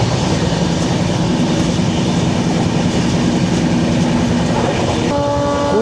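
A train on the Kolkata to Kalka run rumbles loud and close with constant clatter and wheel noise, and a sustained horn tone cuts in near the end.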